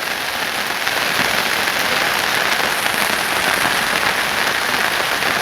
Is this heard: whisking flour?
no